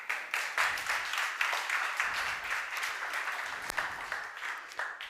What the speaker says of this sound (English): And this is when something fails, and I want applause